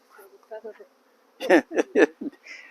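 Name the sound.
honey bees buzzing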